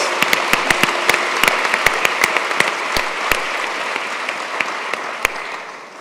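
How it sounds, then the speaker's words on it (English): A conference audience at an education forum's opening plenary breaks into sustained applause, dense clapping with sharp individual claps standing out, steady then fading slightly. "A big round of applause."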